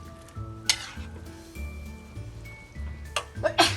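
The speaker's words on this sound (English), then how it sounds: "So now I mix them up well" Turnips and minced pork being stirred in a pan, with light sizzling and several sharp clinks of a utensil against the pan at irregular intervals, up close.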